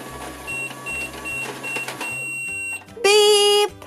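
A toy oven cooking a pizza hums in low pulses while short electronic beeps repeat, ending with a brighter, louder chime-like tone near the end.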